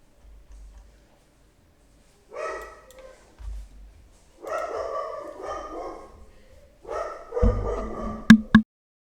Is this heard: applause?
no